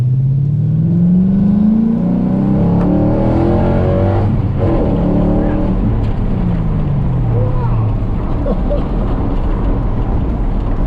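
An old 1950 Ford F1 truck engine rumbles loudly and continuously, its pitch rising and falling as it revs, while people talk over it.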